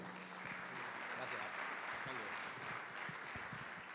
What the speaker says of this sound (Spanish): Un fuerte aplauso para Alfonso Polanco